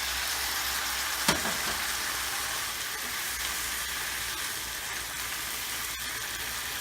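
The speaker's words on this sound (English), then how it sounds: "So now that my veggies are all cooked, I'm going to add the sauce I made" Stir-fried vegetables sizzle steadily in a hot pan as a homemade sauce is added, a continuous even hiss with one brief sharp clatter near the start and no talking.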